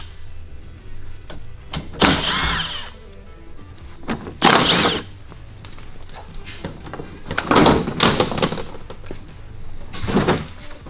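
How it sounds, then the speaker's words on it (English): A power tool whirs in several short bursts while 10mm bolts come out of the front bumper of a Toyota 4Runner, with quiet clicks and handling noises between the runs. "So we're going to go ahead and take those out, and the bumper should come down."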